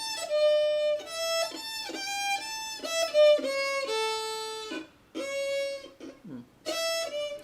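Solo violin playing a fiddle tune with no shuffle bowing, a run of sustained, evenly bowed notes in a plain rhythm with short breaks between phrases, close and clear.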